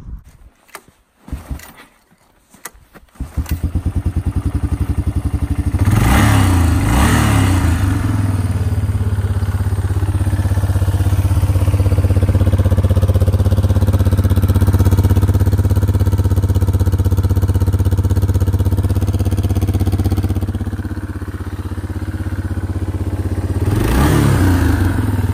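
A 1989 Kawasaki Bayou 300 2x4 ATV cranks with a few sputtering tries, then catches and settles into a loud, steady low idle close by, with brief revs blipping near the middle and end.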